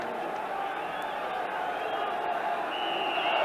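A large football crowd at a Chelsea v Manchester United match gives off a continuous, dense roar of atmosphere, with a voice talking over the steady wash of noise.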